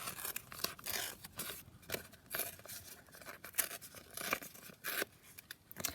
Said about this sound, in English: So what I'm going to do is tear it down here